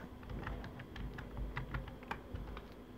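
Computer keyboard typed on in quick, irregular keystrokes, soft clicky taps at close range with a faint steady hum underneath and no voices.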